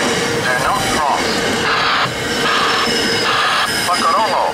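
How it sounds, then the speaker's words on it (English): A train rumbles steadily through a level crossing on Collins Avenue in Linden, loud and close, with faint wheel squeal and warning-signal tones rising briefly over the constant roar. "Another train approaching. Do not cross."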